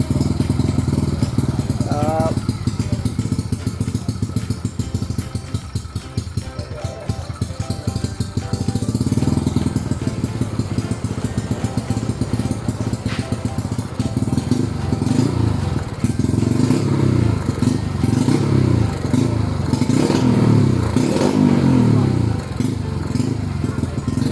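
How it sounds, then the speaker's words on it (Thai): A Honda CB150 motorcycle with a modified engine runs with a loud, continuous exhaust rumble that holds steady throughout, close by, with voices talking over it at times. "คือเราไม่อยากให้ฟังเสียงท่อไง เออ เอาแค่เราฟังห่างๆเลยครับ"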